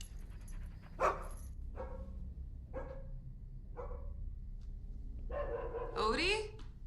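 A dog named Odie gives a handful of spaced, moderately distant barks, with the final one stretching into a whining yelp over a quiet background.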